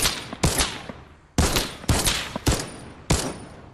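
Fortnite gunfire: a quick series of sharp, loud shots in irregular clusters, some close together and some spaced out, each with a bright crack and short reverberant tail.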